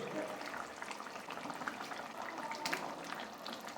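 Prawn malai curry gravy simmers in a pan, a soft, low bubbling boil that stays faint and steady throughout with no talking.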